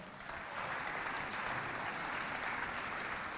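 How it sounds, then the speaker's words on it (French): Audience at a Chad television show, the Festafrica Show, applauding in a steady, dense wash of clapping that holds at full strength for a few seconds. "applaudissez encore très fort"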